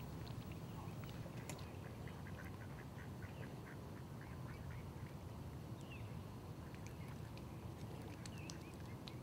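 Ducks quack repeatedly across a pond, a steady scatter of calls near and far over a constant outdoor background.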